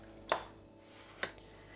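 An eggplant being cut into small cubes on a board, two distinct knife chops roughly a second apart, close and crisp against a quiet kitchen background.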